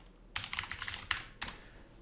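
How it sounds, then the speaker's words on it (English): Password typed on a computer keyboard during an Office 365 login demo, a quick run of close, light key clicks with a couple of sharper presses, no talk. "And we're going to type in the password."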